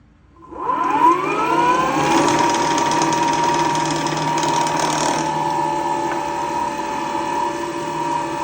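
An electric sailboat drive motor at wide open throttle spins up from silence into a loud, steady electric whine with mechanical gear-like harmonics, holding constant for several seconds with slight fluctuations.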